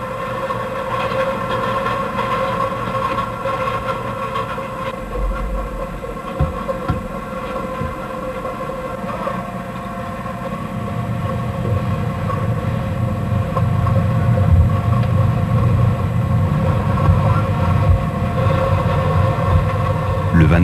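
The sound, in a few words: Electra 2000 coal shearer running in mine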